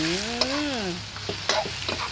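Squid sizzles and crackles in a hot wok while a utensil scrapes and stirs, with a brief voice-like tone at the start.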